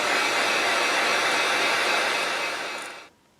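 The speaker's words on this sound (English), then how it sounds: "we're going to get the heat gun out and start drying" A heat gun drying paint on a fishing lure roars with a loud, even, airy hiss close by, then cuts off abruptly near the end.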